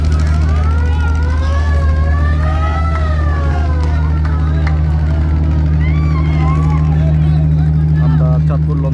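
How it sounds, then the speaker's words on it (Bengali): A passenger river launch backing away from the Chandpur launch ghat, its engine a steady, loud low drone throughout, with people talking over it. "লঞ্চটি ইতিমধ্যে ঘাট থেকে ব্যাক গিয়ার দিয়ে দিয়েছে"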